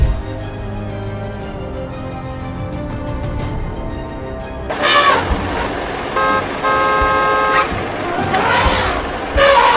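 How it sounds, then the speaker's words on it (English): Car alarm going off as an elephant crushes a car: steady tonal honking-type blares that start partway through and repeat in loud bursts, with crunching impact noise underneath. "the noise from the alarm only angered the elephant more"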